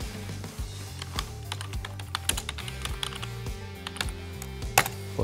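Typing lines into an inspection report in PPE management software on a computer keyboard, a steady run of close, crisp key clicks with irregular rhythm, a faint low hum beneath and no speech.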